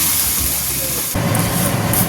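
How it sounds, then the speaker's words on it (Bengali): Water is poured into a hot pan of Bengali morola fish curry with helencha greens, bursting into a loud, sudden hissing spray about a second in that continues steadily to the end. "1 গ্লাস জল দিলাম"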